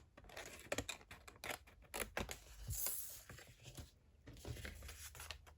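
Scissors snipping through paper card to make a pocket card, giving a series of short, crisp cuts and rustles up close, with quiet pauses between them.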